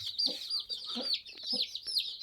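A grey hen and her young chicks cluck and peep nearby, with high chirps repeating through the whole stretch and low clucks coming in short bursts.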